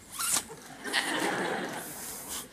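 The front zipper on a pair of overalls is pulled, giving a couple of quick, close scratchy rasps followed by softer rustling of fabric.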